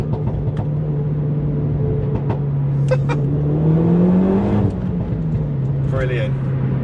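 A Renault Megane R.S. Trophy R with an Akrapovic exhaust hums along while driving, a steady low drone that swells briefly under throttle, heard from inside with light cabin noises over it.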